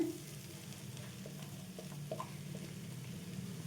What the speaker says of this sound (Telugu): ఇప్పుడు ఇందులో ముందుగా మనం నానబెట్టి ఉంచేసుకున్నాం కదండి మరమరాలు, ఇవి అయితే వేసేసుకుందాం